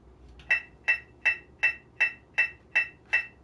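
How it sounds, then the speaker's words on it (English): Metronome set to 160 beats per minute for clarinet scale practice, nine crisp, evenly spaced clicks in a quiet room, loud and close with no other sound. "My goal here today is 160 on the metronome for the scale, which sounds like this."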